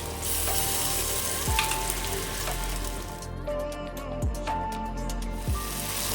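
Ginger, dried chili and garlic paste fries in a pan for a shrimp and jackfruit curry, giving a steady close sizzle with a few soft clanks and scrapes from stirring.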